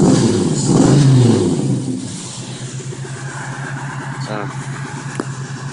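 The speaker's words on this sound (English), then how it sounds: "that's giving a bit of rev and stuff" An AMC Rambler Hornet's engine, fitted with a changed carbon intake, revs up loudly and close, then settles into a steady idle; someone talks over the start.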